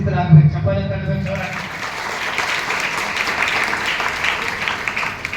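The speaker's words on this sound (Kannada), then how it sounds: "ಚಪ್ಪಾಳೆ ತಟ್ಟಬೇಕು" Church congregation clapping together during worship, a dense, steady wash of applause that begins after a short sung or spoken phrase and carries on evenly to the end.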